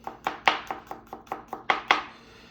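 A knife chops garlic on a cutting board in a steady run of about nine crisp, close taps, some strokes landing harder than others.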